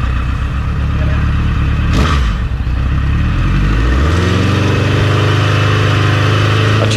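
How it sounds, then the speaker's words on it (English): Motorcycle engine running after carburetor tuning with a Carbtune Pro, steady close revving with throttle blips that rise and settle, loud and continuous throughout with no talk. "blipping the throttle here, it did seem a bit more responsive than what it was before"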